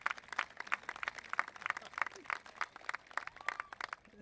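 An outdoor crowd at a fallen heroes monument dedication in Livonia's Nehasil Park claps for introduced guests, producing moderate, fairly quiet applause with a steady pattern of individual claps.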